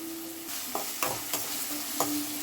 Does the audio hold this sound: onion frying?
yes